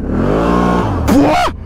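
A vehicle engine revving hard at full throttle on snow, a loud sustained roar that climbs and then sweeps sharply upward near the end before cutting off.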